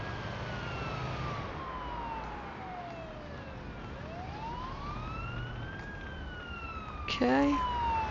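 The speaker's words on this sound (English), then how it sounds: "I'm convinced that the siren does nothing in the game, but we'll just keep it on just in case." Ambulance siren in the paramedic simulator game Ambulance Life, wailing up and down at moderate distance over low traffic rumble, ending in a sharp burst of horn-like yelps.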